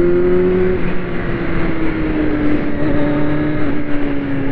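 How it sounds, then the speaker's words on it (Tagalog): A Kawasaki Z900 inline-four motorcycle engine revs loud and close, a steady buzzing drone with a slight pitch slide, alone with no talk over it. "Sarap, sarap ng motor mo, Mark."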